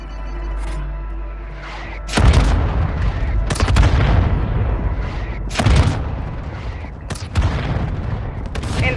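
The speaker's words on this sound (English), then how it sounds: "Mortar strike inbound now" Repeated heavy mortar strike explosions in Call of Duty: Warzone Mobile, several loud booming impacts landing a second or two apart, each with a rumbling tail over continuous battlefield noise.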